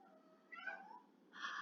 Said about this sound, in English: That was my cat Cleo.